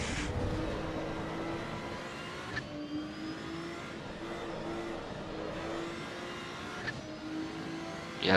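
A race car engine in the racing game Assetto Corsa EVO at the Nürburgring holds a steady drone with gear changes and short revving bursts around 2.6 and 6.9 seconds, rising again at the end, with no speech.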